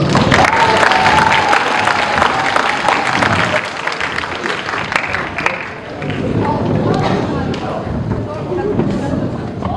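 Parents at a high school admissions information session give the school principal a loud round of applause, sustained clapping with crowd noise that gradually thins and softens toward the end.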